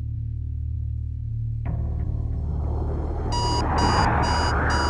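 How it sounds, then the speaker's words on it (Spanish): An alarm clock set to wake a daughter early rings with a series of sharp, evenly spaced electronic beeps that begin partway through, over a low rumbling background. "prepara el despertador para llamar a su hija temprano"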